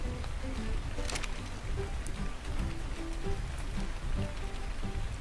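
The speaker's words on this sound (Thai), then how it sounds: "ตอนนี้ฝนตกแล้ว" Steady rain falls in the video game ARK Survival, a dense, even hiss of drops on surfaces that runs unbroken and fairly soft for the whole stretch, with faint rustles and no voices.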